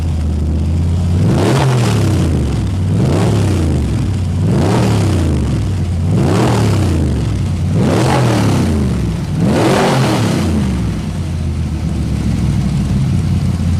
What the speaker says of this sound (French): Donc là on ralentit. On reconnaît bien le V8 qu'on connaît bien.